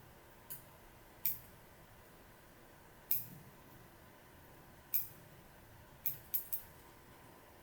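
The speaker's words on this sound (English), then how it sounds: "I'm going to trim off the butt ends." Scissors snip the butt ends of bucktail while a fly is being tied: six or seven sharp, close metallic clicks, spaced irregularly over faint room noise, with no talking.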